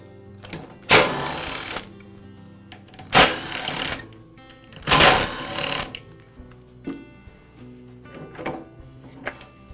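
Three separate bursts of a cordless driver, each about a second long, backing out the motor assembly screws on a DeWALT chop saw, with quiet handling clicks between and after them.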